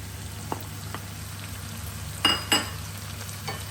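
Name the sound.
beans added to a sizzling pot of minestrone vegetables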